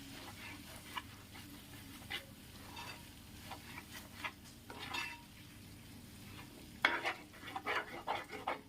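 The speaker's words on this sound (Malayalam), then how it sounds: "അതിനുശേഷം നമുക്ക് ഇളക്കി കൊടുക്കാം." A spoon stirs beef biryani masala with yogurt, coriander and mint in a pan, soft intermittent scrapes and clinks over a quiet simmer, with a few sharper metallic taps near the end.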